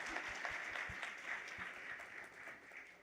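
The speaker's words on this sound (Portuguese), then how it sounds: "E merece aí esse aplauso" An audience at a retail trade expo conference claps together in steady, dense applause, heard faintly and somewhat distant, tapering slightly by the end.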